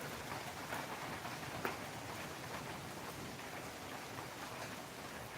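Heavy morning rain pours down steadily, a dense even hiss of drops on surfaces with no voices over it and one brief louder splash partway through.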